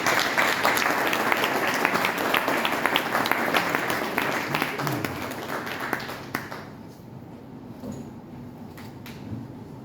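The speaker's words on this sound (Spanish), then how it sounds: "Demos un fuerte aplauso al doctor honoris causa Octavio Contreras Orseguí." An audience applauds at an evening lecture honouring a doctor honoris causa, sustained clapping filling the room before fading as it winds down.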